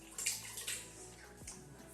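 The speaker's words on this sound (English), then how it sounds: "all you do is you put in your water, your wet ingredients" Water splashes into the pan of a bread maker for pasta dough in a home kitchen, a couple of short close pours with light trickling and a faint thud near the end.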